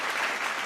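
Dense crowd-style applause plays as an on-screen sound effect, a continuous even wash of clapping with no pauses across the short stretch.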